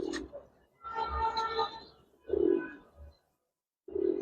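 Pigeons at a farm, with soft cooing calls in short separate bursts and pauses between them, close and fairly quiet.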